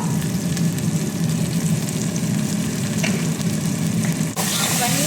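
Curry leaves and turmeric sizzle steadily in hot oil in a pan for ginger chicken, a continuous close crackling fry with faint stirring, a brief dip near the end.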